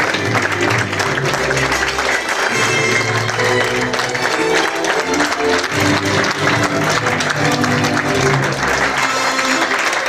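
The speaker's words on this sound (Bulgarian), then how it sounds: "А сега ви моля за най-силните ви аплодисменти" Dense, steady applause from the guests at a wedding party fills the whole stretch, loud and close, with a low murmur of voices or music underneath.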